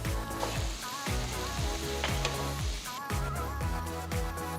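Onions and tomatoes sizzle steadily in a hot pan, with a constant frying hiss and occasional scraping stirs, close and without voices.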